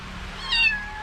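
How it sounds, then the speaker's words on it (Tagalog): A cat at a house in the Philippines gives a single clear, rising-then-falling meow over quiet background noise. "Maraming pusa talaga pumunta dito sa bahay"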